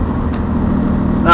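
A Dodge Ram with a Cummins diesel runs with its exhaust brake engaged, a loud, steady low rumble that continues without a break, with a brief voice at the very end.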